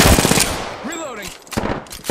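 Bursts of automatic gunfire in the shooter game Apex Legends, with rapid close shots at the start and again near the end, and game voice sounds in between.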